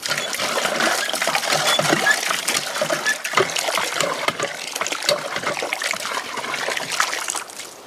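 Water gushes from an antique hand pump well into a bucket at a remote off-grid property. The splashing and trickling pour is close and steady throughout, with uneven surges and no voices.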